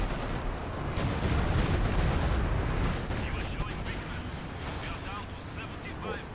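Artillery barrage in Company of Heroes 2, a dense, continuous rumble of explosions and battlefield gunfire with heavy low thuds under crackling debris, steady and loud throughout.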